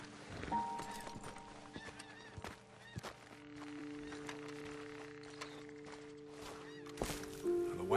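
Horses stand about after riders dismount in Red Dead Redemption 2, with snorts, shuffling and hoof clops over steady tonal game ambience, ending in a louder neigh or whinny near the close.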